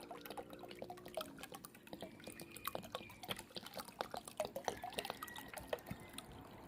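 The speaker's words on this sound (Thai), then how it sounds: "น้ำส้มสายชูนะครับ ใส่ลงไปรวมนะครับ ประมาณ 1-2 ลิตรก็ได้ครับ" Vinegar poured into a homemade weed killer mixture, a soft trickling splash of liquid with scattered drips, faint and fairly close, with no talking.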